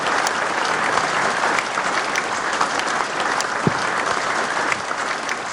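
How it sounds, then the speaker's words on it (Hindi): Loud, sustained applause from a large crowd at a teachers' award ceremony in Bulandshahr, thick continuous clapping at a steady level for several seconds. "आपकी जोरदार तालियों के प्रणाम के साथ।"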